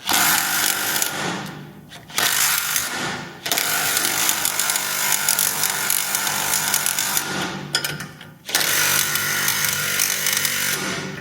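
A loud Mako power tool buzzes and rattles in long bursts while removing spring bushings, pausing briefly twice before starting up again, harsh and close.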